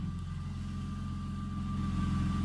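Lexus IS200 engine idles steadily at about 900 RPM, a low, even hum with a faint whine, heard close and alone without talking.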